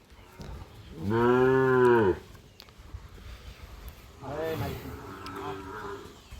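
Sahiwal cattle on a farm moo twice, one long loud low call followed by a shorter, quieter second moo a couple of seconds later, with light background noise between.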